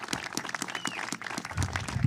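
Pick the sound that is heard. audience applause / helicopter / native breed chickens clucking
audience applause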